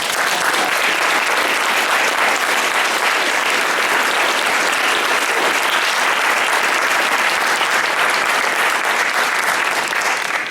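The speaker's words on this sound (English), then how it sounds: "let's give a round of applause" A room full of people at a school board candidates' forum claps in a sustained round of applause, steady and dense for the whole stretch with no voices rising above it.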